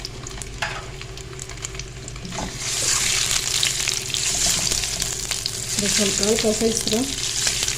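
Boiled eggs coated in turmeric and chilli fry in a pan for anda korma, a loud steady sizzle that swells midway, with stirring scrapes and a voice speaking briefly over it.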